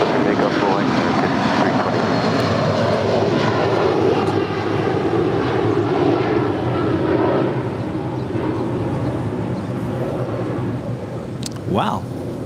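An airliner takes off at full length from runway 24 right at LAX, a loud broad engine roar rising and holding, then gradually easing as it climbs away, with a brief sharper whine near the end.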